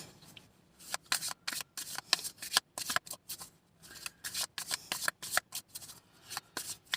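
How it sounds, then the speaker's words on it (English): Tarot card deck being riffle-shuffled, a rapid series of crisp, papery bursts in quick irregular rhythm, close and fairly loud, with no talking. "I actually just picked up the wrong deck and started to shuffle it"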